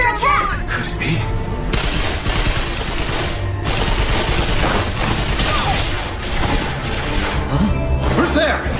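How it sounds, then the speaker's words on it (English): Explosions during an attack in an anime battle scene: a dense, continuous roar of blasts and rapid gunfire-like bursts, loud and unbroken, with a chaotic mix of crashes layered throughout. "I see explosions! I think we're under attack!"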